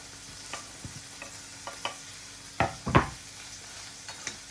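Tomatoes going into a hot pan with a light sizzle, followed by several distinct scraping stir strokes and a couple of louder clatters near the middle, all close and without talk.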